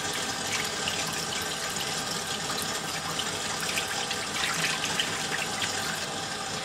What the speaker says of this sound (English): I do this until the water runs clean